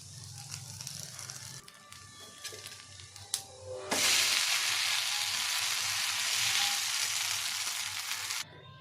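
Uttapam batter frying on a hot pan, a loud steady sizzle that bursts in after a few seconds of quieter kitchen noise and holds close and continuous until it cuts off near the end.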